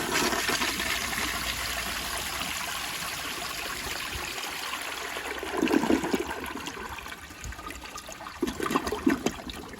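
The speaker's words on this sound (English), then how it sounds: "This is a dry bowl flush." A 1981 Eljer Emblem toilet on a flushometer valve flushes with a dry bowl: a loud, steady rush of water that keeps going through the whole stretch, with louder gurgling surges near the end.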